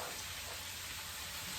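Onions and other vegetables sauté in a pan with a steady, close hiss and sizzle.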